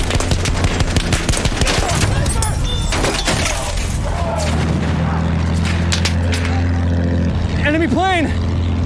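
In a Battlefield 1 battle, loud rapid bursts of gunfire and shattering impacts ring out over a droning engine, with shouted voices mixed in and a rising, wavering whine near the end.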